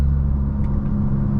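Volkswagen Golf MK8 GTI with a Unitronic Stage 2 tune cruising along a lakeside road, a steady low engine and road rumble heard from inside, constant and without talk.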